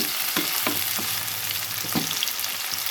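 Large vegetable pieces fry in a pan with a constant hiss, while a spoon stirs them in several short scraping strokes, close and loud, without speech.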